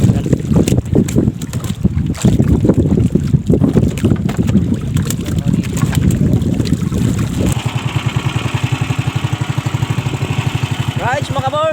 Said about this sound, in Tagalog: Lumalakas na yung hangin.